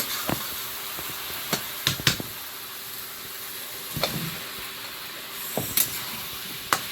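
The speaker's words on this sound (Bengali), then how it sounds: "মশলার সঙ্গে কচুটাকেও একটু নেড়ে চেড়ে কষিয়ে নিতে হবে" Pieces of taro fry in a spice paste with oil in a pan, giving a continuous low sizzle broken by occasional sharp scrapes and knocks as they are stirred.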